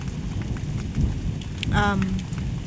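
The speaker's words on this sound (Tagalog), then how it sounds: "sumasabay pa yung kulog" Steady rain pours on a rainy morning with a low thunder rumble beneath it, continuous and moderately loud, with a brief tonal chirp briefly rising over the wash.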